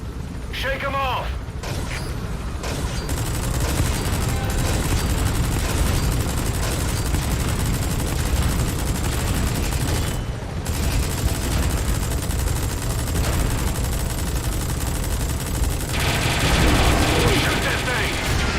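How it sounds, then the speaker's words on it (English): A helicopter-mounted minigun in Metal Gear Solid V fires in long, dense bursts over a constant mechanical rumble and explosions, with voices speaking over the din. "Use the chopper's minigun."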